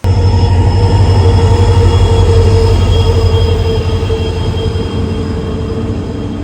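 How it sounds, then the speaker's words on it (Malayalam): The Panchganga Express rolls past loudly and close on the Konkan Railway, a continuous roar of wheels on rails with squealing tones that eases slightly toward the end. "നമ്മൾ ഇത്ര നേരം തേച്ചൊട്ടിച്ച വണ്ടിയാണിത്, പഞ്ചഗംഗ എക്സ്പ്രസ്"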